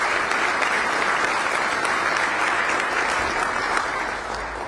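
A large crowd at the Bexar County State of the County address gives a round of applause for the sheriff's deputies, a dense, even roar of clapping that holds steady and tapers slightly at the end.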